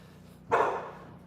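A single sharp dog bark at a farm, loud and close, rising abruptly then trailing off with a short echo, standing alone over a low steady background hum.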